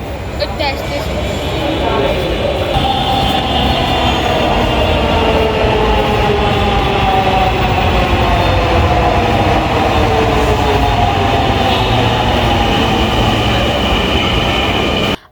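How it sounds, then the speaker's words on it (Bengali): A metro train rumbles into the station, its loud roar and rising whine building steadily and filling the whole stretch, with faint voices beneath. "আমাদের ট্রেনটা চলে আসছে।"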